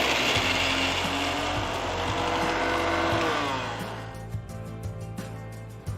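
A mixer grinder blends chopped green chilies, garlic and ginger into paste, whirring loudly and steadily before winding down and stopping near the end, leaving faint rattles.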